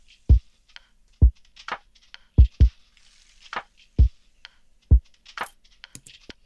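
A lofi drum pattern of deep kick thumps alternating with crisp snare and rim stick clicks, sparse and dry, with light ticking percussion in between.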